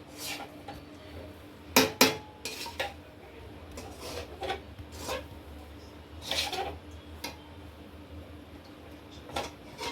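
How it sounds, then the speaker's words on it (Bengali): Dal puri filling stirred in a pan, with intermittent scraping and clinking of a utensil against metal, several louder knocks among softer rubbing, close and without speech. "ডালপুরির পুর তৈরি করছি।"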